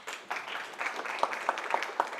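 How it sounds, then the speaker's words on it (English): A conference audience at a trading technology masterclass in Morocco applauds briefly, a soft, moderately distant patter of many hands with a few sharper claps standing out. "I would give a big round of applause to this."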